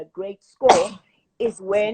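A single sharp sneeze bursts out in the middle of a radio talk segment about credit, with people speaking just before and after it.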